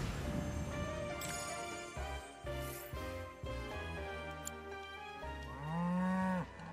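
Two cows in the Final Fantasy 7 Rebirth video game moo several times in a row, with close, deep, drawn-out lows that end in a long, rising final moo, and nobody talks.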